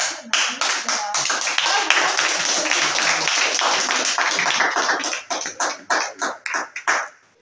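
Group applause during a traditional Malagasy cooking demonstration, dense clapping for about five seconds, then thinning into a few scattered individual claps with faint voices underneath.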